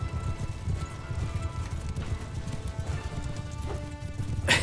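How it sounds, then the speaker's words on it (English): Horse hooves clip-clopping at a steady gallop in the video game Mount & Blade II Bannerlord, a generic Aserai horse, rhythmic and continuous with a soft whinny near the end. "Just a generic Aserai horse."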